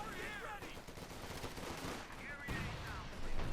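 Machine guns rattle in Company of Heroes 2, a World War II real-time strategy game, with steady bursts of automatic fire in the middle distance under a commentator's continuous talk, growing louder near the end.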